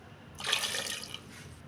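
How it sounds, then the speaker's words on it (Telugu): Water poured onto potatoes in a pot for boiling, a short close splashing burst of about a second that fades out, with no talking. "దీంట్లో ఒక రెండు గ్లాసులు వాటర్ పోసుకుందాం"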